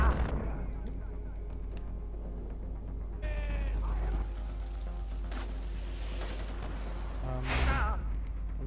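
Mortar fire in a video game booms low and heavy twice, once near the middle and once near the end, over a constant rumbling battlefield bed mixed with some tonal effects.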